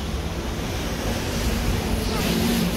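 Sea waves roll in at Marine Drive, Mumbai, in the evening, with the water risen high against the promenade; a steady, loud, broadband wash of surf and wind fills the clip without a break.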